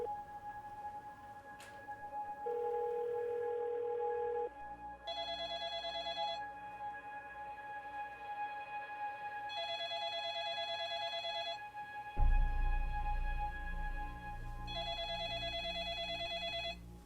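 A telephone rings in repeated electronic bursts with pauses between, heard over a handset line with a dial tone and a click partway through.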